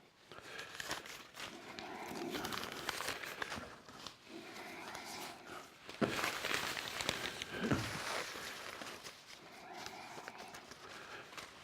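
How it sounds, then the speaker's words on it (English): Paper is torn and crumpled by hand for a wood-burning stove fire in repeated close rustling bursts, each followed by brief pauses. "Kind of get you a little wad of paper going."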